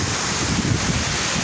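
Steady, heavy wind buffeting the microphone over the rumble of rough surf on the coast at Mauban, Quezon, Philippines, a constant roar with no pauses.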